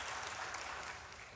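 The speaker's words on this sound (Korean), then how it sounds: "우리 하나님께 영광의 박수 올려드립니다." A congregation applauds during a Sunday church worship service, a dense, steady wash of clapping that carries on without a break for the short stretch.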